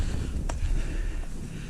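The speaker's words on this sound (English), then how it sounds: "Still quite windy" Wind buffets the microphone on Helvellyn, a steady low rumbling roar near and loud, with no voices.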